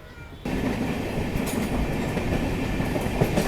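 The Secunderabad–Tirupati Vande Bharat Express bursts into earshot and rushes past close by, a sudden loud, sustained rumble of rolling wheels and rail clatter that holds steady to the end.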